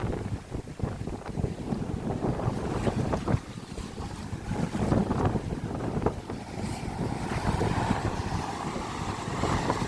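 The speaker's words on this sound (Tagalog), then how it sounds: "Lakas ng agos." A strong water current rushes and churns continuously, mixed with gusty wind buffeting the microphone and the wash of waves, loud and close with no voices.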